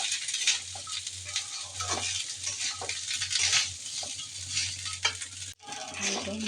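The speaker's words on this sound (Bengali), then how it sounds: "ভাত দিয়ে দিয়েছি, নেড়ে চেড়ে নিচ্ছি।" Rice is stir-fried in oil with onion, green chilli, bay leaf and whole cumin, giving a steady close sizzle broken by repeated scraping stirs of the spatula against the pan, with a short break near the end.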